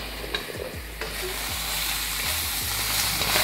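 Seasoned crab gets stirred in a hot pan: a loud, continuous sizzle with scraping and knocking of the utensil through the mix, and no talking.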